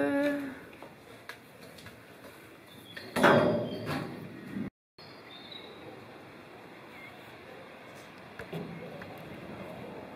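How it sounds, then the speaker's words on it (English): A new, heavy-duty DIY camper door on a Unimog expedition truck swings with creaks and a solid thud, then a sharp clunk later, while people talk nearby. "Come through our new door."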